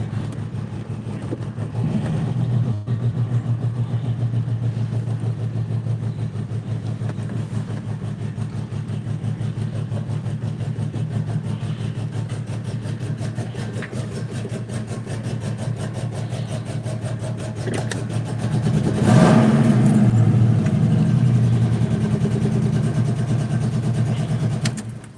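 A car engine idles with a steady, loud rumble, then revs up near the end before settling back, heard close with no talking over it.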